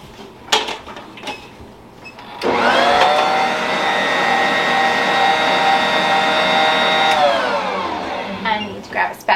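An electric mixer whirs through bread dough with yeast, a loud steady motor drone of about five seconds that starts abruptly and winds down with a falling pitch, framed by light kitchen clatter.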